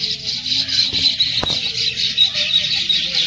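A steady chorus of many small birds chirping continuously, high and busy, with a brief soft thump partway through.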